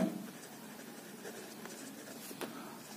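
Pen scratching numbers onto paper while solving a Class 10 maths polynomials exercise: soft, faint, close strokes in short scribbled bursts, with one slightly sharper tap near the end and no talk.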